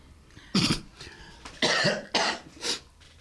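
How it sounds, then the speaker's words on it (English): Several harsh coughs in quick bursts, close and loud, with short pauses between them and a bit of throat clearing. "I'm sorry, I had to cough."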